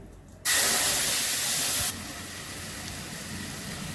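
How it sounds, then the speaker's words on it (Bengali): Masala paste of onion, tomato, ginger and garlic hits a hot pan for masala rohu fish, bursting into a loud sizzling hiss that holds for over a second, then settles into a quieter steady fry. "মশলাটা দিয়ে দিচ্ছি"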